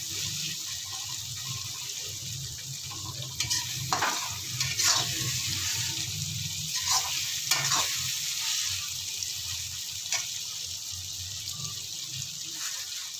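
Potato masala for dahi aloo being fried and stirred in a pan, a steady sizzle with intermittent scraping strokes of a spoon, close and continuous throughout.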